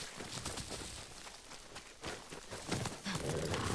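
Horse galloping in the video game Ghost of Yotei, a fast run of hoofbeats over rushing wind and ambient game noise, with a brief snort-like swell near the end.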